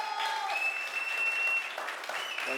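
An audience at a Bollywood app launch event applauds in a steady, dense wash of clapping and crowd noise, with a faint whistle rising above it.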